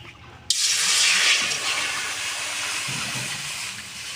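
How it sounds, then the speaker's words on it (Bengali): Water hits a hot wok with a sudden loud hiss that swells into steady sizzling steam, then slowly eases off and keeps hissing. "সেদ্ধ করার জন্য কড়াতে দিয়ে দেবো জল।"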